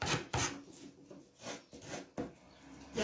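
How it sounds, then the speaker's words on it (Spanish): Sandpaper rubbing back and forth on wood for a children's lamp project, several rough rasping strokes in an uneven rhythm, close and moderately loud with no talk. "mientras le doy aquí a la lija"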